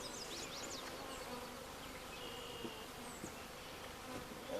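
Honeybees in a horizontal hive buzz steadily and close throughout, a dense continuous hum with no voices over it.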